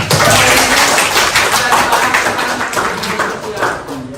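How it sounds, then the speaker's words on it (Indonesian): A class of participants clapping their hands in a classroom, loud and close, with quick dense claps and overlapping voices and chatter underneath. "Tepuk tangan."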